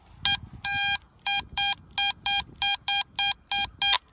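Metal detector signal ringing over a buried sterling silver coin at an old Civil War-era homestead: a strong, clear electronic tone pulsing in about ten regular bursts, loud and close, with faint rustling underneath and no talk.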